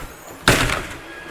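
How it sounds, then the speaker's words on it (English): Entry door of a Jayco Precept 34G motorhome swung shut with a single solid thunk, close and loud, followed by a brief rattle as it settles. "Close the door."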